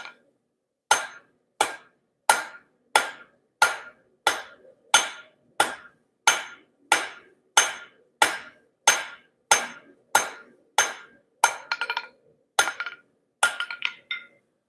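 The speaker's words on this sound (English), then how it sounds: "Don't hit the anvil like that." A hammer strikes steel on an anvil while hooks are forged, about twenty sharp ringing blows in a steady, evenly spaced rhythm, loud and close, with the last few blows sounding doubled and rattling.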